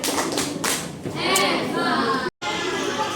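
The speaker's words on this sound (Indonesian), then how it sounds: "Top, berikan tepuk salut semuanya." Primary school class in Jakarta doing a rhythmic group clapping chant, sharp claps in short bursts mixed with children's voices and chatter in a classroom, with a brief dropout near the end.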